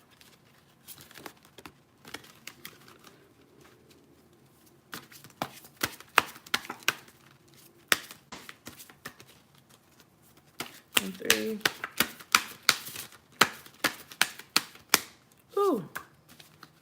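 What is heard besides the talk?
shuffling oracle cards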